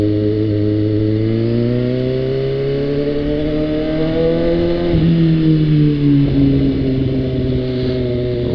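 Suzuki GSX motorcycle accelerating, a loud close engine whose pitch climbs steadily, dips briefly around a gear change midway, then rises again, with no voices.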